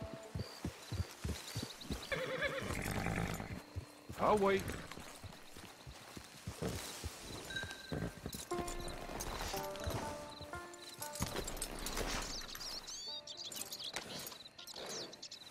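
Horse hooves clip-clopping with a neigh in Red Dead Online, the rhythmic steps coming and going alongside game music and tones, with people talking over parts of it.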